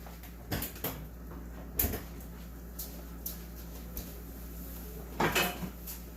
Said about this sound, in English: Sorry, I just want to find my lid.